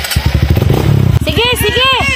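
A motorcycle engine revs hard up close, loud and rough with a rapid throbbing beat, then shifts into rising and falling whines as it accelerates.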